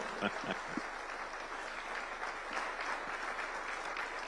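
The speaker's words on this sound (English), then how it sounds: "The Kenyan tradition is that we clap when he's coming in" Guests at a New Year diplomatic briefing at State House, Nairobi, clap as the President enters: a faint, distant, continuous wash of applause from a standing crowd, steady throughout with no voices over it.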